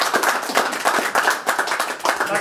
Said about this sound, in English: Give him a little round of applause